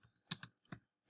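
Keys on a computer keyboard are struck in short, soft clicks, four or five spaced taps with brief quiet gaps between them, close and fairly quiet.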